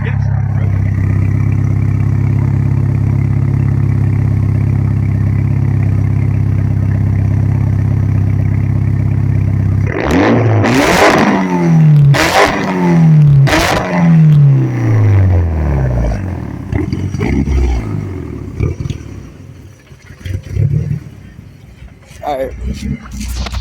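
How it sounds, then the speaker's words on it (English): A Mitsubishi Evo idles with a deep, steady rumble, then its engine is revved hard three or four times in quick succession, each rev rising sharply and falling back, before settling into a rougher idle. "you mind if you rev it?"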